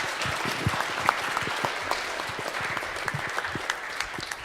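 Applause from a conference audience at the close of a Paris climate panel, a moderate scattering of claps that stays fairly even and thins out toward the end.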